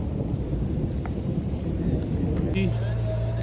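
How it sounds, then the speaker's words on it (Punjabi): Rain falling during a Dussehra thunderstorm in Hoshiarpur, a dense steady rumble and patter with low thunder, joined near the end by a passing vehicle's hum and a faint whistle-like tone. "ਬੱਦਲ ਵੀ ਗਰਜ ਰਿਹਾ ਨਾਲੋਂ ਨਾਲ ਮੀਂਹ ਵੀ ਪੈ ਰਿਹਾ ਆ"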